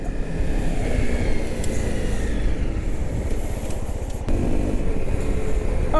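A Honda CRF250L Rally enduro motorcycle on a test ride gives a steady, loud engine drone mixed with wind and road rumble. The sound is continuous with no break.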